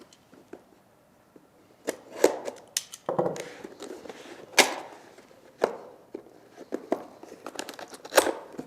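Cardboard packaging for an Acer R857TN Chromebook crinkles and tears while being opened, with scattered rustling, scraping and a few sharper snaps and thuds in an irregular, close-up sequence without speech.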